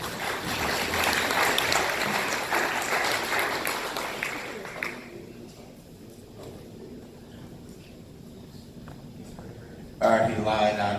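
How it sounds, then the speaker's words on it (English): Audience at a loan presentation applauds as the next presenter walks up, a dense wash of clapping for about five seconds that thins out into quiet room noise before a voice starts speaking. "Let's give him a warm round of applause."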